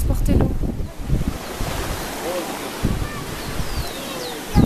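Water rushes forcefully through Inca stone canals at Ollantaytambo, Peru, a loud steady churning roar mixed with wind buffeting the microphone, with a person speaking intermittently over it.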